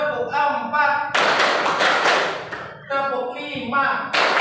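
Hands clap together in a classroom lesson, dense bursts of clapping that come between spells of a teacher's voice counting beats aloud.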